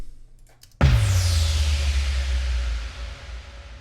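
A sudden deep boomer effect for an EDM buildup hits after a short quiet lead-in, its heavy low rumble ringing out and slowly fading under a hissy, sweeping tail.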